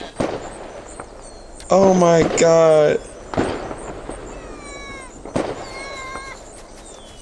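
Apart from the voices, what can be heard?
New Year's fireworks in Wolf Simulator video game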